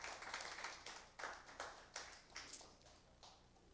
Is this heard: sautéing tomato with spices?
no